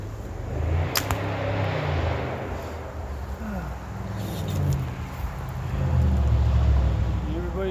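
Cars driving around nearby, a continuous low rumble of passing traffic that swells and fades, with a few sharp knocks and some voices in the background.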